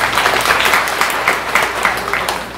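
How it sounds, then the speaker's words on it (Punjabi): An audience at a village charity event in Jahangir, Dhuri, breaks into steady, fairly loud applause, a dense wash of many hands clapping together for a few seconds with no distinct speech. "ਇਹਨਾਂ ਲਈ ਤਾਲੀਆਂ ਮਾਰ ਦਿੰਦੇ"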